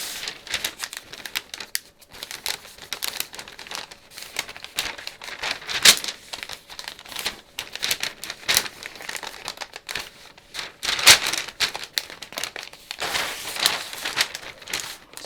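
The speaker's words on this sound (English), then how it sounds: "So I'm going to fold along, a mountain fold along this line and this line." A paper skirt pattern folded by hand along dart lines on a tabletop, giving close, intermittent crinkles and crisp rustles in short bursts.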